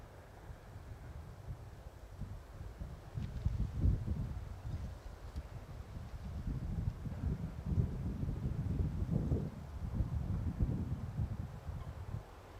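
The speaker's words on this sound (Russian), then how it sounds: "А на улице у меня начался такой хороший ветерок такой." Wind blows outdoors at a 50-metre shooting range, a low rumbling buffet against the microphone that swells and gusts unevenly, moderately loud and with no one talking.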